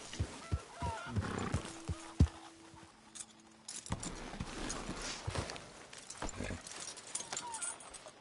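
Horse hooves clopping and a whinny while riding in a PS4 video game, with uneven hoofbeats, jangling tack and speech over the top at moderate level.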